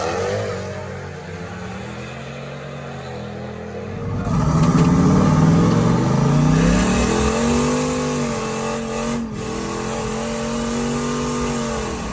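A turbocharged LS V8 swapped into a VW Beetle idles with a low burble, then launches in a street race, revving hard and climbing through gears with strong turbo roar, loud and close.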